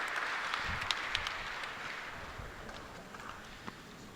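Audience applause at a national indoor archery championship awards announcement, a steady broadband patter of many hands clapping across the hall, fairly even and sustained throughout.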